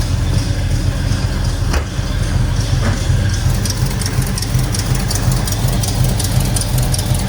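A 1969 Pontiac Le Mans convertible with a 455 V8 idling close by, a steady deep rumble with a faint rapid tick from an exhaust leak running under it.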